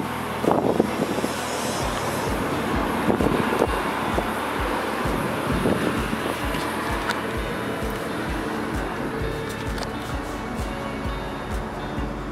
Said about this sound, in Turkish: Buralarda tabii yine rüzgar başladı.